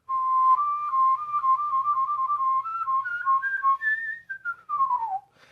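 A person whistles a quick run of notes that climb, hover and then slide downward near the end, clear and close with no other sound.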